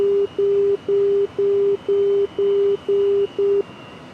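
A marker beacon in the DCS World Su-27 cockpit emits eight loud, evenly spaced beeping tones, each about a third of a second long, then falls silent.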